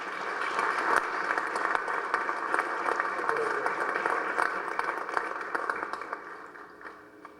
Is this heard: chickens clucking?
no